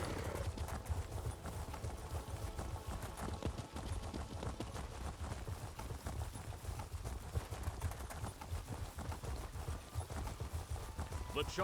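Hooves clip-clop in a steady galloping rhythm as a horse mount is ridden in the Elder Scrolls Online video game, close and continuous, with a person talking over parts of it.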